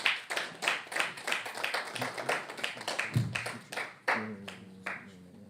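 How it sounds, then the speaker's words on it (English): Audience at a trading master class applauds a speaker with brisk, fairly close clapping that thins into a few scattered claps, with a voice briefly heard near the end. "Round of applause for Roti, please."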